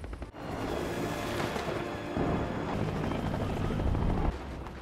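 A helicopter roars with a dense, rumbling noise of rotors and engine, loud and continuous, with a faint voice briefly beneath it.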